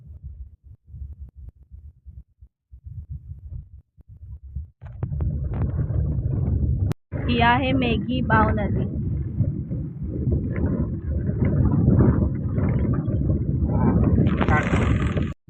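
A car drives along a potholed village road between Devale and Devrukh near Sangameshwar, its low engine and road rumble rising steadily from midway and continuing under people talking inside.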